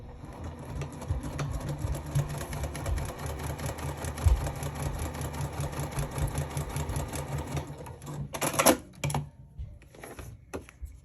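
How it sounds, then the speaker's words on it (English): A sewing machine stitches along the short edges of fabric, a rapid close mechanical rattle running steadily for most of the stretch, then stopping, followed by a few sharp clicks and handling noises. "Now if you want, you can sew along the two short edges."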